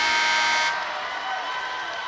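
A noisy crowd of high-school students at a state Class A boys basketball quarterfinal, HCA against West Central Area, roars loudly as a dense wash of cheering that swells and then settles into a steady, slightly softer din.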